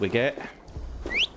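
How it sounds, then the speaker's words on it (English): A short, bright rising whistle to summon a horse in Assassin's Creed Valhalla, sounding once at the end right after a brief spoken line. "I will give the horse a whistle"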